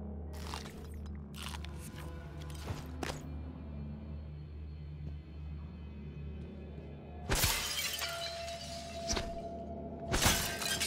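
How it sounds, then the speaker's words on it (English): In the video game Prey, glass windows shatter in bursts of crashing, crunching glass, with several breaks early on and two louder smashes later over a steady, humming game background. "we can smash windows quite a lot"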